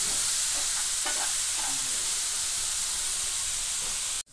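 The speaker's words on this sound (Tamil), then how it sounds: "ஆனியன்ஸ் நல்லா கோல்டன் ப்ரௌன் கலர் ஆகிற வரைக்கும் நம்ம இதை நல்லா ஃப்ரை பண்ணி எடுத்துக்கலாம்." Onions sizzle steadily in hot oil in a pan while being fried for paneer masala dosa filling, making a loud continuous hiss with occasional stirring scrapes, close up and with no voices.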